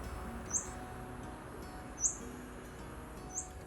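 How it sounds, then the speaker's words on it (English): Scarlet-backed flowerpecker in a park gives three short, high, sharp calls spaced a second or so apart, loud and clear over a steady hum of background insects and distant ambience. "I'm also hearing this bird call. Oh, look, it's a scarlet-backed flower pecker."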